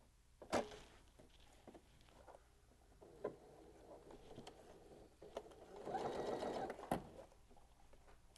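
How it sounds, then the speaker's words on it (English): A sewing machine top stitches the openings of a modern fabric clutch shut on the free arm, running in short quiet bursts with soft handling clatter between, the longest steady run near the end. "the next step is to head over to the sewing machine and top stitch the openings shut"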